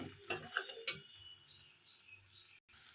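Spoon stirring and mixing eggplant bharta with tomato and coriander in a pan: a few scraping, clinking strokes at the start, then a faint steady sizzle close by, with no talking.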